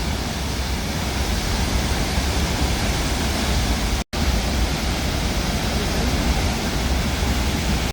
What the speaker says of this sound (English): Oh, check out that waterfall, guys.